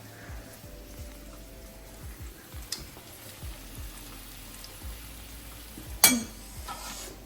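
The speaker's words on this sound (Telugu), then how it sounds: "సో మొత్తానికి అయితే గుడ్ల సైడ్లు ఫ్రై అయితే రెడీ అయిపోయింది" Eggs frying in a home kitchen pan give a low, steady sizzle with soft stirring scrapes, then a brief sharp clink of utensil on pan near the end.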